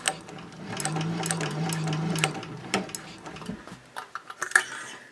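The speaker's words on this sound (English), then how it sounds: "I'm going to be stitching these side seams now" A domestic sewing machine stitching the side seams of a fabric caddy, a steady motor hum with rapid needle ticking for about two seconds, then stopping into scattered clicks and handling noises.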